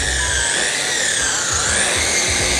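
Steady, loud whirring of a polisher cutting car paint on a door, constant and close with a faint rhythmic low thumping underneath.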